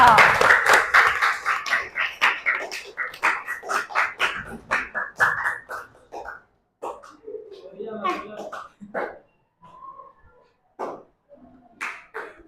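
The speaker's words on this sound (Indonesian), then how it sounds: "Beri tepuk tangan dulu nih buat Marcelo." Students in a classroom clap in a quick, rhythmic unison for a classmate named Marcelo. The claps are loud and regular for about six seconds, then give way to scattered, fainter voices and sounds.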